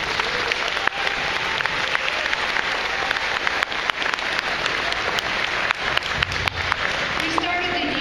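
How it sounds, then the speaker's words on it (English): Applause from a school auditorium audience after a 6th grade middle school band performance, steady dense clapping filling the whole stretch with a few louder claps standing out. "Let's give them a round of applause."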